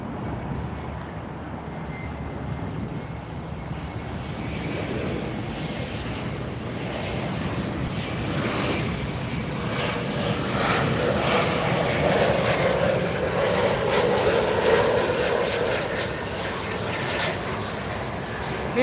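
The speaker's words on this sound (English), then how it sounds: "looks like we have 2 more American arrivals" An American Eagle regional airliner arrives at Miami International Airport, its engine roar building steadily from a distant rumble to a louder broadband whoosh that peaks and lingers, with light wind noise.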